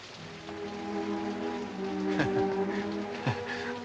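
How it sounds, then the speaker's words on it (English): Steady rain falls in the background while a few faint tonal sounds and soft knocks come and go; no one speaks. "It's raining."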